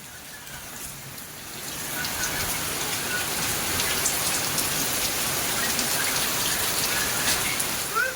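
Steady, heavy rain pours down in a continuous wash of noise, growing slightly louder after the first couple of seconds, with no voices.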